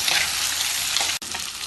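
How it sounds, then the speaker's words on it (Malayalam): Boiled chickpeas are stirred into a sizzling frying-pan mixture, a steady close fry with scraping stir strokes and a brief sharp clack near the end. "ഇതിലേക്ക് വേവിച്ച് വെച്ച കടല ചേർക്കാം. എല്ലാം കൂടി ഇളക്കി മിക്സ് ചെയ്യാം."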